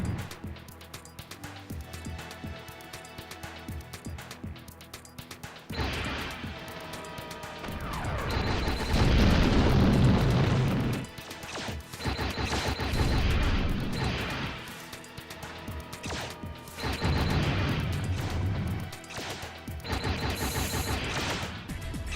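A reactor explodes in the video game Hellbender, a loud sustained roar of crashing blasts and rumbling booms that swells, drops and bursts again amid game music.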